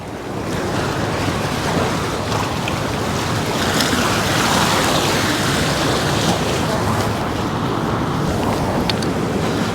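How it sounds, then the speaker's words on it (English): Ferries pull away from Circular Quay in Sydney, with a broad, steady wash of water churn and wind noise filling the scene, close and loud throughout. "A couple of ferries making their way out of Circular Quay"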